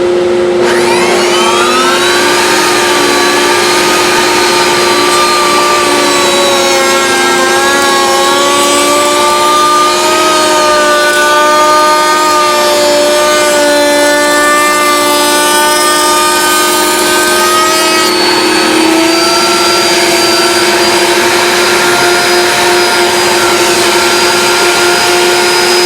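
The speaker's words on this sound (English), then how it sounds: "I've got the groove portion of the tongue and groove router bits installed." A router spinning tongue-and-groove bits cuts grooves in wood while a dust collector runs. Together they make a loud, continuous whine with shifting pitch for the whole stretch.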